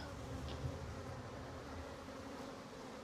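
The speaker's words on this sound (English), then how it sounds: "And I'm taking plenty of bees with me" A dense swarm of honey bees at an open hive hums continuously, a low, steady buzz that fills the space without pause.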